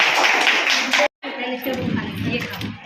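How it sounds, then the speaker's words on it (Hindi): Teachers at a Teachers' Day event clap in a brief burst, cut by a short gap, then lighter scattered clapping under murmuring voices. "शिक्षकों चलिए ताली हो जाइए।"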